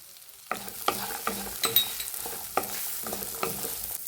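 Vegetables with peanuts, beans, carrots and eggplant stir-fried in a pan for Bhogi bhaji, a soft sizzle under sharp, repeated spatula scrapes and knocks arriving in an irregular rhythm, close and clear.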